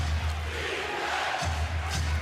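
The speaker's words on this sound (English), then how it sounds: "The crowd's gone crazy" Roaring basketball arena crowd cheering loudly and steadily at a Celtics–Bulls NBA playoff game, a dense wall of voices with a constant low hum underneath.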